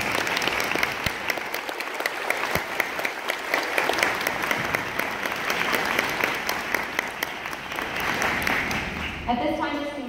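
Sustained audience applause fills an indoor middle school honors ceremony, dense steady clapping from many hands that holds at an even level for about ten seconds before tapering at the end.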